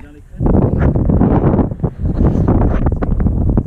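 Strong gusting wind buffets the microphone on a rocky mountain summit, roughly 2,020 metres high, along the GR20 trail in northern Corsica, a loud continuous roar with rough surges.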